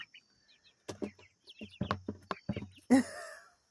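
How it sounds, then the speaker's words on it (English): A hen pecks at an empty container in a backyard coop, giving a scatter of light, irregular taps with soft clucks and chirps between them, close by and fairly quiet, ending in a brief louder squawk. "she's pecking at this container I got"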